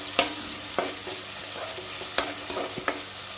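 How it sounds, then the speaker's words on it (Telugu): Thinly sliced onions fry in a hot pan for a chicken dry roast, giving a steady close sizzle broken by a few sharp stirring scrapes. "ఉల్లిపాయలు బ్రౌన్ కలర్ వచ్చే వరకు ఫ్రై చేసుకోవాలండి."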